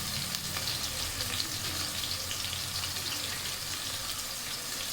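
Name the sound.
onions, green chillies and curry leaves frying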